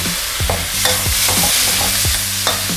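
Pork being stir-fried in a pan with seasoning sauce for a Thai dish, giving a steady close sizzle with repeated scraping strokes of a spatula stirring the meat.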